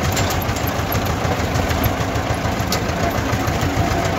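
Tractor engine, an Ursus C330 or MF255, running steadily and loud at close range during potato planting, a continuous droning rumble with no talk over it.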